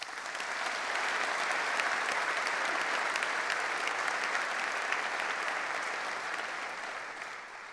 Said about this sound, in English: We just have a round of applause.